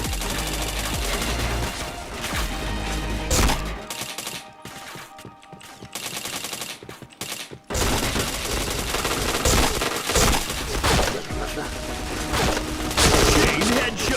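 Rapid gunfire from a video game shooter rattles in dense, loud bursts, easing briefly to sparser shots midway before the heavy firing picks up again.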